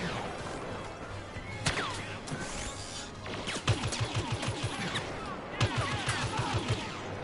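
Gunfire in a Star Wars Battlefront match: a dense, continuous battle din of overlapping shots and crashes, with sharper close reports standing out in short rhythmic runs, faint voices beneath.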